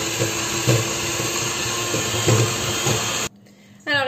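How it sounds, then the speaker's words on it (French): A food processor whirs steadily while creaming butter with icing sugar, a loud continuous motor whine with slight pulses, then it cuts off and a voice begins speaking. "on va prendre notre robot et on va mélanger le tout"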